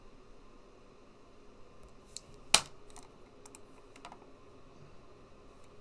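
A few scattered clicks of typing on a computer keyboard, one louder key press standing out among soft, sparse taps in an otherwise quiet room.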